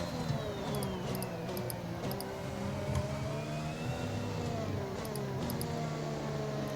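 A Formula 1 car racing in the F1 2021 video game at the Singapore circuit, its high engine whine rising and falling steadily through gear changes, heard continuously and fairly quietly with no talk over it.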